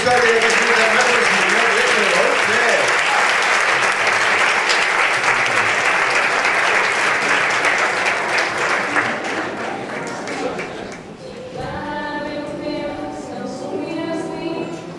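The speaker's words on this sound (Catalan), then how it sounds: "Un fort aplaudiment per aquesta història de Jesús de Hermanos." Loud, sustained applause from a church congregation at a Eucharist service, dense clapping filling the space before thinning out near the end as a voice begins speaking over it.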